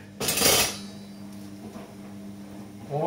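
A knife slices through a fresh lemon on a kitchen board with a single short, clattering cut, followed by faint, quiet handling sounds.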